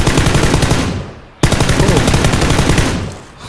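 Loud, rapid automatic gunfire in the battle royale game PUBG, a continuous fast-rhythm burst that briefly pauses and then resumes, close and dominant with no talk over it.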